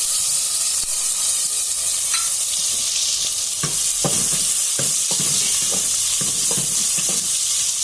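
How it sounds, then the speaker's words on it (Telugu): Sliced onions fry in hot oil with curry leaves, giving a steady loud sizzle broken by a series of stirring scrapes and clatters in the pan; no one speaks. "ఈ ఉల్లిపాయలు బాగా ఏగుతూ ఉండాలండి. బాగా వేయించుకోవాలి."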